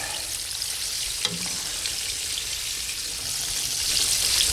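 Pork chops fry in a pan with a steady, close, hissing sizzle that holds throughout and swells slightly toward the end, with no voices.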